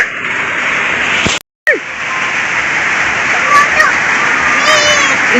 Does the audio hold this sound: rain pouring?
yes